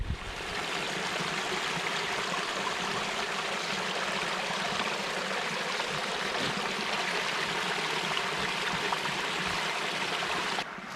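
A creek along the Pinhoti Trail on the Talladega Ridge rushes steadily over rocks, a close, constant broadband babble of flowing water with no voices.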